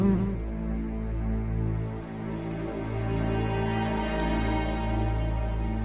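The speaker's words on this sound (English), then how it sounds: "This wasp measures just a few millimeters, but to tadpoles, it's an aerial assassin." A tiny wasp of a few millimeters buzzes in the Amazon jungle, a thin steady drone over a continuous background of insect noise, with no speech.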